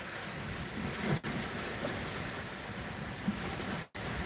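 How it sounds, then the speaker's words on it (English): Steady broadband wind rushing outdoors, a constant roar with low gusty rumble and a couple of brief dropouts, no voices. "So you hear the winds coming out of this way"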